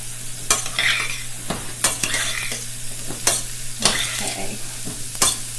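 Utensil scrapes and clinks repeatedly in a skillet of shrimp and couscous with romesco, with a steady sizzle underneath and a brief spoken word.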